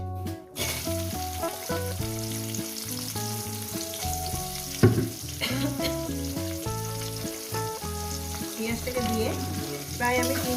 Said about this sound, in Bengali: চার মিনিট ধরে ভাজবো